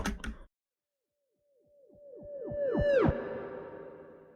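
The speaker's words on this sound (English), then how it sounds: "A siren that's backwards can be a really cool way to basically make like a little synth riser" A synthetic siren played in reverse sweeps upward in repeated overlapping glides, swelling louder into a tense riser after a short burst and silence.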